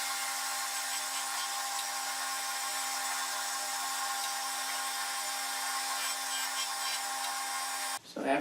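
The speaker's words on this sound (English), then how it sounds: "That's best done on a joiner planer." Jointer planer surfacing glued-up laminated wood boards, a steady high-pitched whining cut held for several seconds before cutting off abruptly with a short clatter at the end.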